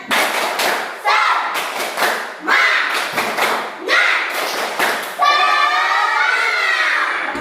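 Students repeat the tepuk semangat clap in unison, crisp patterned groups of claps with short pauses between, closing with a sustained shouted cheer from the whole group.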